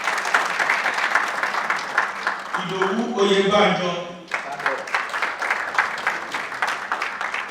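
Guests at an engineering class reunion dinner in a hotel clap steadily for committee members, a rhythmic patter that continues under a man calling out a name over the microphone.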